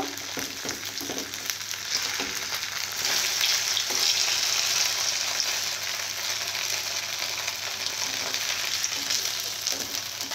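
Bottle gourd leaves fry in hot oil with a dense, continuous close sizzle that swells louder midway as the leaves are flipped, with faint scraping and no talk.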